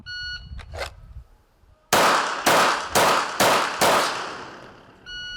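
After shot-timer beeps and a short pause, a pistol drawn from the holster fires five loud, sharp shots in quick succession at a 7-metre FBI qualification drill, each crack ringing out briefly before the next.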